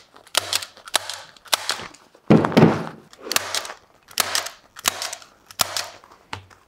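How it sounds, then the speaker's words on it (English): A new staple gun fires staples into fiberglass duct wrap on a round pipe elbow, about eight sharp, close snaps spaced roughly a second apart, one followed by a brief rustle of the insulation. "Use this nice new staple gun."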